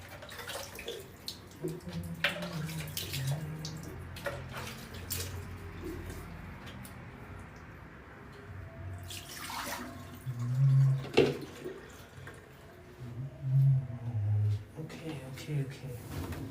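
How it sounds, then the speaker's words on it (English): Water runs from a tap while something is rinsed, a steady splashing stream near the mic with a few louder gushes, under someone talking for most of the time. "now I just gotta rinse this a little bit."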